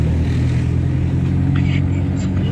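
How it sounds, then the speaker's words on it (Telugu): Car driving along a road through coconut groves after arriving by boat, with a steady low engine and road rumble that stays close and even throughout. "బోట్ నుంచి మళ్ళీ దించి ఇప్పుడు ఇదిగో కార్లో వెళ్తున్నాం"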